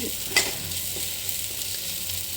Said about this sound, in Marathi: शेंगदाण्याचं कूट असं चांगलं भाजू दे